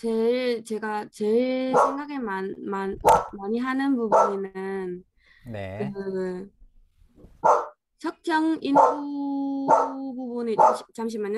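A small pet dog barks and yips repeatedly in a home during a Korean online class discussion, the high sharp barks coming in bursts near the microphone and mixed with a person speaking.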